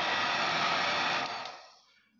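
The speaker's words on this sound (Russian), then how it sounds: "Поэтому включаем фен" A handheld heat gun blasting hot air onto old paint to soften it for stripping, a steady loud broadband whoosh that holds for over a second then dies away as it switches off.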